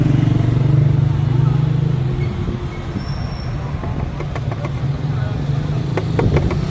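A 2005 Opel Astra G engine idles steadily with engine flush added to the oil, a low droning hum, close and continuous, with some faint clicks and rattles toward the end.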